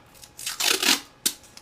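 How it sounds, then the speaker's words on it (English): Tape being pulled from the roll and torn for a cosplay SpaceX helmet, a ripping, crinkly stretch followed by a sharp short tear, close and alone. "And just taping across the seams."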